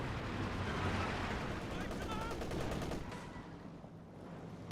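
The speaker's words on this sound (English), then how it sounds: "MG34 firing away to pin down that rifle squad there." An MG34 machine gun in the real-time strategy game Company of Heroes 2 rattles in rapid bursts among other distant battle noise, heard fairly faintly under a caster's steady commentary.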